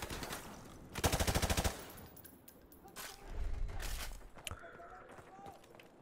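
Automatic gunfire from Call of Duty: Modern Warfare Remastered, one quick rattling burst of rapid shots, followed by scattered distant shots, thuds and low rumbling battle noise.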